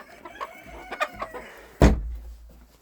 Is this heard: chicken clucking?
yes